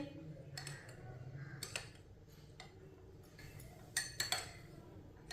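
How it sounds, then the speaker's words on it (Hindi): A spoon stirring yellow custard powder into half a cup of milk, giving faint, scattered metallic clinks and taps against the vessel over a soft background, quiet and close. "कस्टर्ड को मैंने चम्मच चलाते हुए मिक्स कर लिया है"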